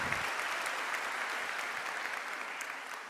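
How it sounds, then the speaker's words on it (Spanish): A church congregation applauds in a dense, even wash of claps that gently fades toward the end, fairly distant and without speech over it. "Dale un aplauso."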